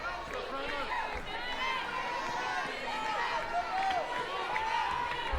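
Razorback fans in the stands at an Arkansas college softball game against Texas A&M, a steady roar of crowd noise with scattered shouts and whistles rising as they call for a pitch, continuous and moderately loud throughout.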